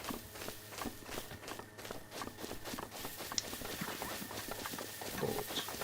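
Rapid, rhythmic hoofbeats of a galloping horse in the video game Breath of the Wild, fairly quiet, continuing steadily with no talking.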